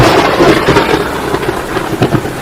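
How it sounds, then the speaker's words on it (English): Thunder rumbles under steady rain in a stormy, snowy tabletop game scene from Talespire, a continuous loud wash with low rolling booms and a couple of sharper cracks toward the end. "It's really like cool lightning sounds."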